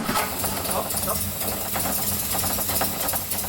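A 1959 Austin Healey Bugeye Sprite engine runs steadily after starting, a continuous loud mechanical idle with rapid ticking and clatter throughout.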